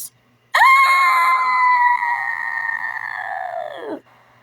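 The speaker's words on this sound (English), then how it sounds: "stop screaming." A cartoon character from Care Bears and Cousins lets out a long, loud, sustained scream that holds steady then sags and cuts off, alone with no talk.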